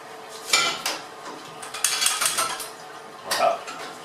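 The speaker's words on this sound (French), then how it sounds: "Nous allons mettre une casserole à chauffer." A saucepan set on to heat in a restaurant kitchen: scattered clanks and metallic knocks of cookware and utensils, a few sharper clatters standing out over a quiet background.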